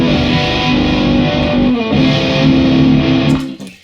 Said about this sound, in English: we get a different type of swirl if you put a distortion on